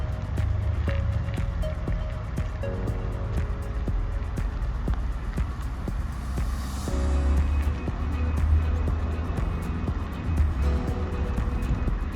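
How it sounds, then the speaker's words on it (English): A Mercedes-Benz engine idles and hums steadily at low volume while the car parks itself using Park Assist, with faint mechanical clicks and a brief rise in engine noise partway through. "The car is going to park itself completely."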